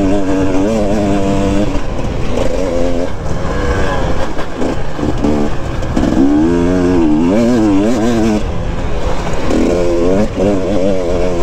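A KTM 250 EXC two-stroke dirt bike climbs a steep hill, its engine loud and close, revving up and down in repeated surges that rise and fall in pitch throughout, with no talk over it.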